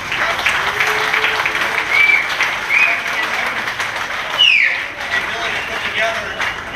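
An outdoor crowd applauds at the 2014 Surfing Walk of Fame ceremony in Huntington Beach, sustained clapping with a few whistles and cheers rising over it, and voices in the crowd.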